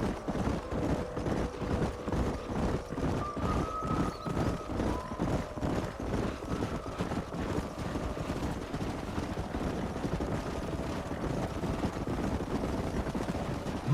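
Several horses gallop in Red Dead Redemption as riders drive a herd up a canyon, a loud, steady rhythm of hoofbeats running throughout over a continuous tonal game backdrop.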